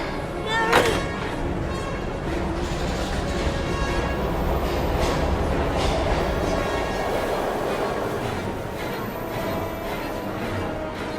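A train in the video game Heavy Rain rumbles steadily for the whole stretch, with a dense rolling clatter, faint metallic squeal and a brief sharp hit near the start.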